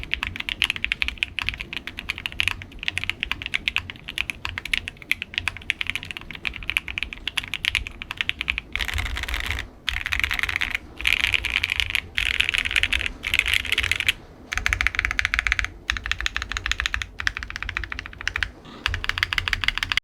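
Typing on a Y-8 mechanical keyboard with plate foam: a fast, continuous run of close, crisp keystrokes with brief pauses between bursts, loud and alone for twenty seconds.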